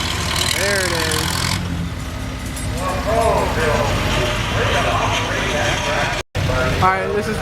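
An Allis-Chalmers WD-45 tractor engine runs at a gas and steam engine show, a low steady idling rumble with mechanical clatter, heard under nearby conversation and outdoor crowd noise.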